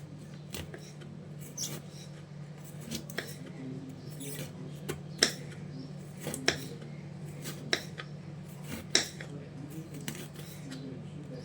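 A knife slicing bitter gourd into thin, medium-sized rounds on a board, giving a steady run of light, crisp taps, faint and close over a low background hum.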